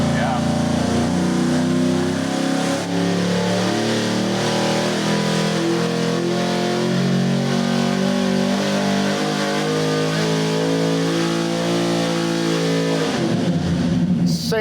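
A 427ci pump-gas small block engine with an out-of-the-box carburetor pulls hard on a dyno, a loud, sustained roar climbing steadily in pitch before dropping off abruptly at the end.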